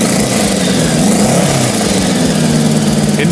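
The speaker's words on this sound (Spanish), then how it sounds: "Número 5, Honda Goldwing de 1974, la Touring más famosa del mundo." A 1974 Honda Gold Wing GL1000 motorcycle with a four-cylinder boxer engine runs steadily, a loud, close, even drone with a low rumbling pulse throughout.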